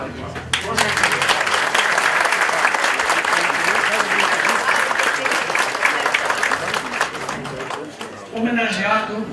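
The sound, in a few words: audience applause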